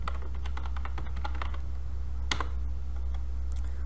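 Keystrokes on a computer keyboard as a script name is typed, a quick burst of close, crisp clicks in the first second and a half, then a few scattered taps over a steady low hum.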